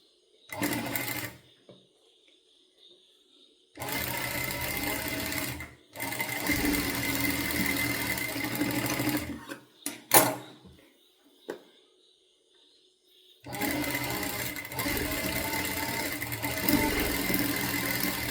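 A sewing machine stitches fabric for a girl's top, running in several loud, steady bursts of rapid stitching separated by short pauses and silences.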